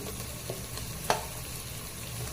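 Onions sauté in a pan for hotel-style vada curry with a faint, steady sizzle and one or two soft stirring clicks. No voices are heard.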